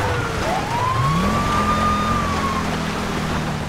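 A video game police car siren, on a 1988 Ford Mustang 5.0 patrol car, wails up and then sweeps back down once, loud and close over a steady engine rumble, with no one talking.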